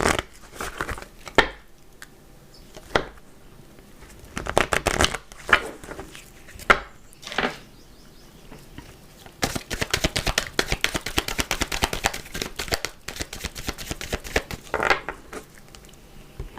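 A deck of tarot cards is cut and shuffled close up in repeated crisp riffling bursts, with short pauses between them and a longer, denser run of shuffling in the second half.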